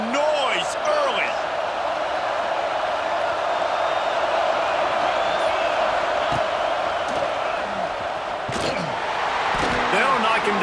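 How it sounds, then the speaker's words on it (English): A large stadium crowd in the video game EA Sports College Football 26 roars continuously at steady volume, with occasional whoops and thumps rising above the dense wash of noise. "This crowd bringing the energy and noise early."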